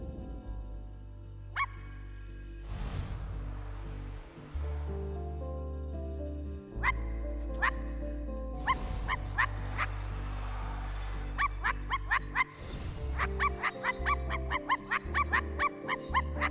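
A dog in the video game I Am Dead barks repeatedly in short yips and bow-wows over steady game music and ambient tones, with clusters of quick barks near the end.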